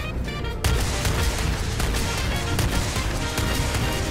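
Dense, continuous gunfire from the space game Starfield, a loud sustained clatter of shots and impacts filling the whole stretch with no talk over it.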